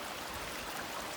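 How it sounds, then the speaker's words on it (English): Running water of a small New England brook, a steady broadband rush that stays even and fairly close throughout, with no voices over it. "Running water."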